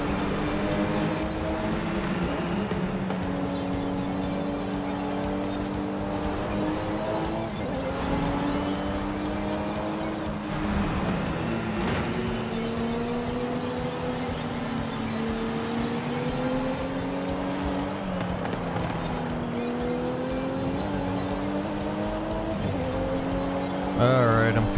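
Game car engine racing laps in Forza Horizon 5, a steady droning engine tone that rises and falls through gear shifts, continuous and loud for the whole stretch, with no voices.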